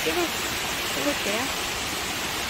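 Cheonjeyeon Waterfall on Jeju, at the starting point where water tumbles over the upper falls, gives a steady, dense roar close by, with people talking over it.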